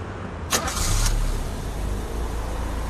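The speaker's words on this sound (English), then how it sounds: "Start the car." A car engine cranks and catches with a short, bright burst of starter noise, then settles into a steady low idle rumble. It sounds fairly close, with no talking over it.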